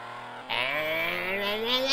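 A Bugatti engine in the arcade racing game 1000 Miles Rally revs up sharply, a loud rising whine with bright harmonics that climbs steadily after a brief quiet start.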